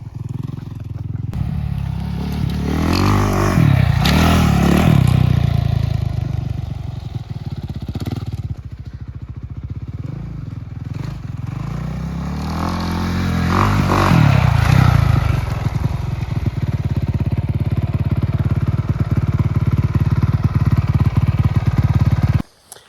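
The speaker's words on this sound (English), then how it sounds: "I never rode a dirt bike before in my life." A Honda 450R dirt bike is ridden close by, its engine revving hard and loud through two long surging pulls with rattling and scraping mixed in, dropping off abruptly at the end.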